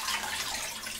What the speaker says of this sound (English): I love the power of that tap.